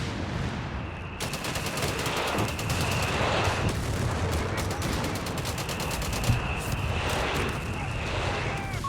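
Dense battle sound from Company of Heroes 3: rapid machine-gun bursts and rattling gunfire over booming artillery bombardment, continuous and loud throughout, with a voice talking beneath the din.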